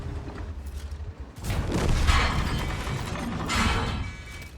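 A tank game's main gun fires with a heavy booming crack, then a rumbling, crashing impact swells and lingers over a low engine drone.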